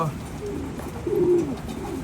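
Pigeons cooing among birds kept for gamefowl in the Philippines, a soft low coo phrase rising midway through steady ambient background noise.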